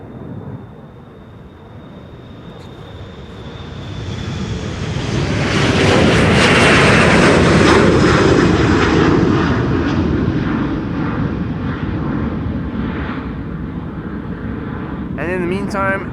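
A retro-liveried Transavia airliner departing Schiphol, its jet roar swelling from a distant whine to a loud, broad rumble overhead, then slowly fading, with people talking over it.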